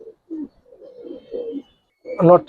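Giribaz pigeons coo close by in clear low bursts, several separate rolling calls with short silent gaps, ending in a louder, fuller coo.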